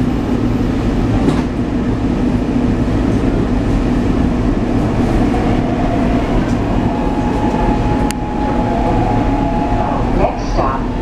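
A SEPTA Market-Frankford Line elevated train pulls away, steady rumbling rail noise with wheel clatter filling the whole stretch, close and continuous, with a faint tone rising near the end.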